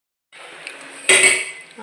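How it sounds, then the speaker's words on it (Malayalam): A metal spoon scrapes and clinks against a pot while jackfruit curry is stirred with roasted ground coconut, soft scraping then a louder clattering burst up close. "തേങ്ങ ചേർത്ത് ഇളക്കുകയാണ്"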